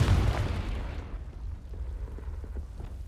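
Fiery Confringo spell explosion in the video game Hogwarts Legacy: a loud, close boom at the start that fades into a long rumbling decay, with no talking.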